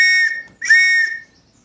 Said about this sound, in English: there'll be an all clear siren or my trusty ARP whistle.